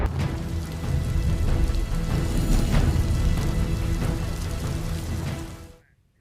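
Heavy monsoon rain pours down steadily after more than 17 inches of rainfall in a flooded village in Banaskantha, Gujarat, a dense continuous roar with no voices, which stops abruptly near the end.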